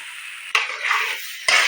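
Soya keema, ground with cloves and spices, is stirred in a hot frying pan: a steady close sizzle with scraping strokes that swell at about half a second and again near the end, with no voices.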